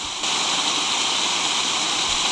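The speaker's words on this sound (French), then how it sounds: "Dans ce parc prend place également une très belle cascade." A park waterfall pours in a loud, dense, unbroken roar of falling water, heard close and constant from start to finish with no voices.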